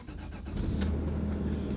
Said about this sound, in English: take a listen to the engine as we start it up